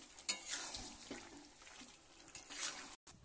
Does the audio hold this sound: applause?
no